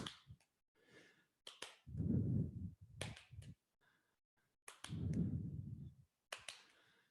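During a seated ball toss and clap exercise, crisp hand claps ring out in quick small clusters, close and sharp, separated by duller low thumps and brief pauses.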